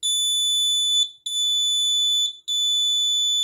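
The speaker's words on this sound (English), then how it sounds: "obstacle detected, alarm should be on." An obstacle sensor alarm in a vehicle control system beeps loudly in three long, piercing tones, each separated by a short gap.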